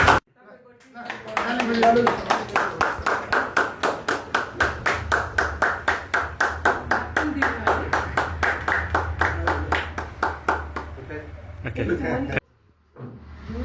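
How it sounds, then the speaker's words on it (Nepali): A group claps steadily and evenly to welcome someone at a small gathering, with loud, fast, regular applause lasting over ten seconds before stopping abruptly. Faint voices sit underneath. "ताली बजाएर स्वागत गर्छु"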